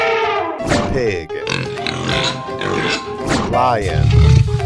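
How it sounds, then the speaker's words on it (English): A pig grunting and oinking, rough nasal grunts mixed with lively playful cartoon-like sounds, loud and close, ending in a deep low snort. "Pig."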